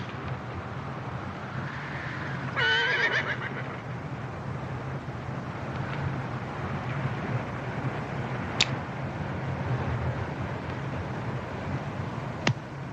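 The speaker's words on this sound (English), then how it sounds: "Caballo." A single short horse neigh rings out early over a low, steady background rumble in an old Hollywood western. A couple of faint sharp clicks follow later.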